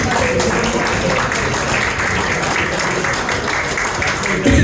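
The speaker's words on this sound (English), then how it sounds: "Let's have a wonderful round of applause for Terry" An audience at a corporate dinner show claps in dense, steady applause for a volunteer named Terry, loud and continuous throughout, with a swell at the very end.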